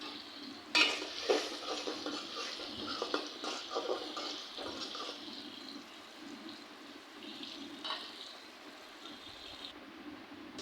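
A spice masala fries in a pan with fish while being stirred, a quiet, low sizzle with a few scraping stirs near the start that then settles into a soft, steady frying hiss, with no voices.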